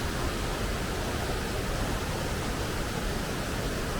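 Mill Gill to Cray Waterfalls, a constant broadband roar of falling water heard up close, loud and unbroken for the whole stretch with no voices.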